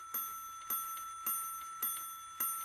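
A clock in an Oswald cartoon chimes, ringing five evenly spaced bright bell strikes about half a second apart, each decaying quickly, clear and alone.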